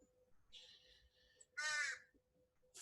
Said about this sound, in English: you can probably hear the baby crows calling me